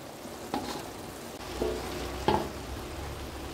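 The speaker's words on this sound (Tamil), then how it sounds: "அடுப்பை மீடியம் ஃப்ளேமில் வச்சுட்டு கிளறி விட்டுக்கலாங்க" Cooked jeera samba rice is stirred with coriander paste in a pan over a medium flame, giving a soft low sizzle with a few distinct scraping strokes of the spoon, quiet and close.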